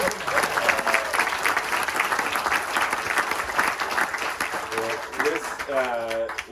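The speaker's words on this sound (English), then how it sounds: "Round of applause just for the support." Keynote audience at an anniversary event breaks into sustained applause, a dense wash of clapping from a large crowd, with a voice speaking briefly over it near the end.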